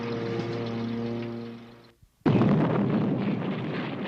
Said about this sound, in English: When an atomic bomb explodes, it produces heat, light, and blast effects.